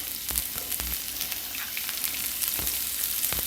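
Peppers and onions sizzle steadily on a hot grill, a dense hissing fry with occasional sharp pops and crackles, heard close up with no talking.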